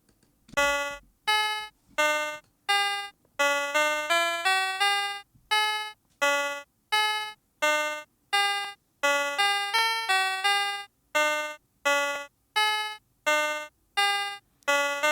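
A dungeon synth musical section played as a loop: bright, bell-like synth notes struck in a steady rhythmic pattern, with short clusters of quicker notes between sparse single tones, clear and alone without any voice.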